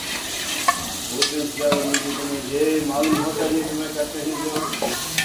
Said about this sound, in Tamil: நல்லா போட்டு நல்லா வதக்கலாம்.